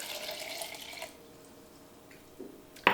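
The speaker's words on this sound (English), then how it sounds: "And I'm gonna add some water." Water poured into a blender with a banana for a plant-based smoothie, a soft splashing pour for about a second, then quiet with a brief clink at the end.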